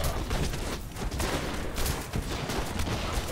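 A new weapon fires in the Van Helsing action game as a dense, loud barrage of rapid shots and blasts that runs unbroken for about three seconds.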